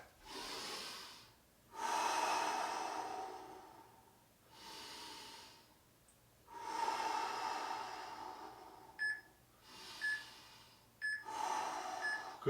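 Heavy recovery breathing after an exercise interval: loud, close inhales and exhales in long raspy bursts with short pauses between them, and a few faint electronic beeps toward the end.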